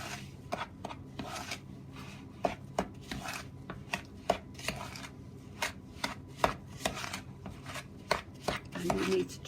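Cherry biscuit dough, gluten-free, being mixed by hand in a bowl: a steady run of soft scraping and thudding strokes of fairly even rhythm, close and moderately loud, with no talking.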